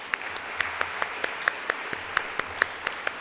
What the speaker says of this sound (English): You're getting advance applause here.